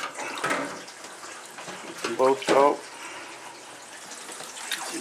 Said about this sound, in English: Fire a little water on here and see what happens.